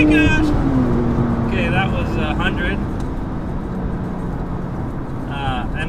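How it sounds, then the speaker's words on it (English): An 800+ horsepower Porsche 911 Turbo roars loudly up close as it accelerates hard, spinning all four tires in first and second gear, its engine note rising then easing into a steady rumble, with excited voices talking over it. "we just spun all 4 tires in first and second"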